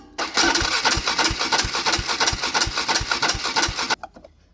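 A Polaris engine cranks over with the spark plug wire off, a rapid, even chugging of the starter that runs for about four seconds without catching, close and loud, then stops.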